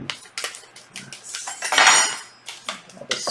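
A spoon stirs an orange drink mix from a German EPA 24-hour ration in a cup, making a quick run of close metallic clinks and scrapes against the container with short pauses between strokes.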